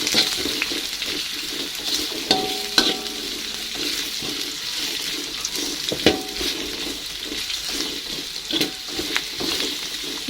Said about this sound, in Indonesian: Setelah bawang merah dan bawang putihnya layu, langsung aja kita masukin bawang bombay ya.